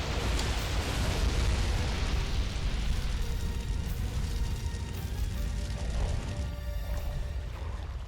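A rumbling explosion in the monster brawler game War of the Monsters, a loud, sustained low roar with crackling debris that slowly tails off.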